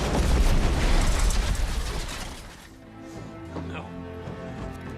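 Big-screen explosion from the action movie London Has Fallen, a dense, heavy roaring blast with deep rumble that fades after about two seconds into lingering debris and a tonal film-score texture.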